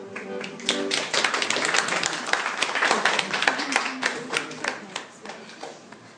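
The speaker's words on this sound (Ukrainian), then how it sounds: "ми тільки їх підтримаємо оплесками" A crowd applauds the Ukrainian choir Voices of Ukraine at an exhibition event, a dense, close, fairly loud burst of many clapping hands that holds steady and then thins out toward the end.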